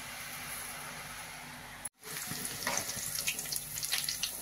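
Garlic sev dough pressed into hot oil on a lowered gas flame, a steady hiss of frying that briefly drops out, then returns with rising crackle and bubbling.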